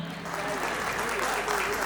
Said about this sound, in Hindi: एक बार थोड़ी तालियां हो जाए प्लीज एवरीवन।